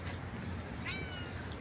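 A cat gives a single short, faint meow near the middle against a steady rumble of outdoor background noise.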